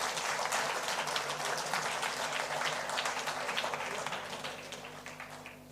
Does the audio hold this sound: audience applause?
yes